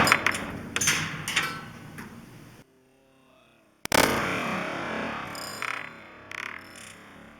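Heavy ball bearings slam into a computer in a few loud metallic impacts with a short, sharp crash, followed by lingering clatter and rumble after a brief near-silent pause.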